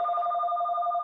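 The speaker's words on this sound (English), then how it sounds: "sorry for the phone" Landline telephone ringing with an incoming robocall, one steady electronic two-tone ring burst lasting about a second, clear and close with no talk.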